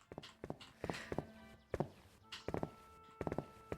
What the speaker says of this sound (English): The footsteps are so loud.